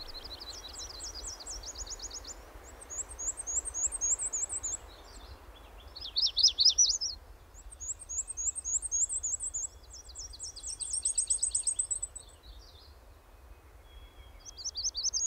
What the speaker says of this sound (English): The warblers are back.